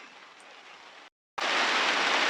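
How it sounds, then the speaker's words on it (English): Rain drums steadily on a kitchen-garden greenhouse in a dense, even hiss, cutting out briefly before returning louder and closer. "we're sheltering in the greenhouse now until the rain has passed. You can probably hear it."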